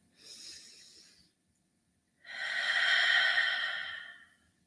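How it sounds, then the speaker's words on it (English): A deep cleansing breath drawn in during a guided evening prayer: a short, softer breath first, then a long, loud, airy inhale close to the microphone, with no talking. "breathe in with me. One more breath, cleansing breath."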